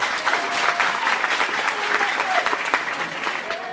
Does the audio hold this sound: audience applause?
yes